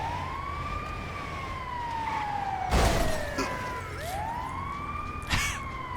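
Police car siren in a video game, a wailing tone sweeping down and back up twice at moderate volume, with a couple of short bursts of other game noise over it and no talk.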